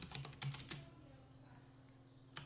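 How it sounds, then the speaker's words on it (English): A few quick keystrokes on a computer keyboard, typing a search into a web browser, land in a brief cluster at the start with a single tap near the end, close and fairly quiet over a low hum. "all you do is type in Subnautica."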